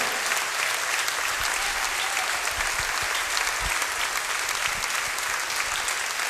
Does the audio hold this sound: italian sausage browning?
no